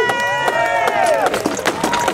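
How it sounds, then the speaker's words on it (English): Spectators at a medieval fair applaud a fighter after his bout, a loose wave of clapping and cheering with an excited voice calling out above the crowd noise. "Can we give Kyle a big round of applause?"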